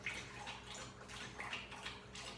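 A pet lapping drinking water, quick rhythmic wet laps repeating every fraction of a second, soft and close, with no talk.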